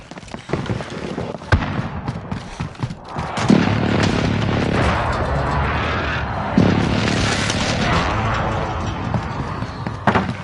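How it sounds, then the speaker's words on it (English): Enemy precision airstrike explosions in a video game land as a run of heavy, close booms that merge into a loud, sustained rumble, with fresh blasts striking partway through. "Enemy precision airstrike."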